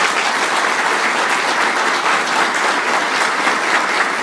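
A large audience at a graduation ceremony breaks into sustained, dense applause, loud and even throughout with no talk over it.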